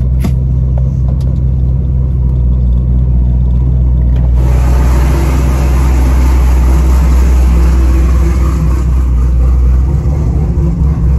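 A drag-prepared car fitted with an MSD 2-step, its engine rumbling loud and steady at close range throughout while being moved from one garage to another.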